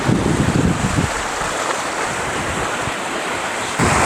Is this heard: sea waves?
yes